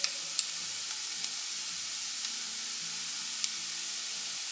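Garlic ginger paste sizzling in hot oil with onions for paneer pepper masala, a soft, steady frying hiss with a few faint clicks, fairly quiet and unbroken, with no talking.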